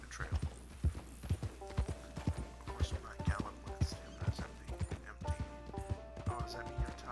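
Steady rhythmic clip-clop of a horse's hooves on a trail in Red Dead Online, close and even-paced throughout, with faint chimes and game ambience underneath.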